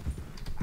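Horse hooves clip-clop in a few quick, close thuds in the video game Red Dead Redemption 2, with faint voices in the background.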